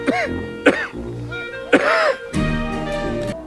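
A man in a film scene set among the Rough Riders coughs and clears his throat in several sharp bursts over a backdrop of music, and another voice speaks briefly between the coughs.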